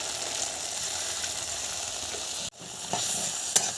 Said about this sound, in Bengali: সর্ষে পোস্ত বাটা বেশিক্ষণ ভাজবো না